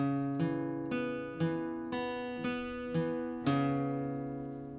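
Guitar strings plucked one at a time in a slow, even sequence, each note ringing into the next, clear and alone.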